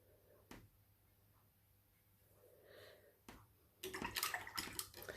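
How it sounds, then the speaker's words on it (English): A watercolour paintbrush rinsed in a pot of water: faint brief swishes and taps near the start, then a louder close burst of splashing and sloshing toward the end, with soft breathing in the background. "Washing my brush."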